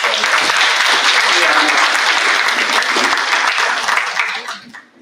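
An audience at a school conference on generative AI breaks into loud, steady applause that holds for several seconds, then tapers off at the close.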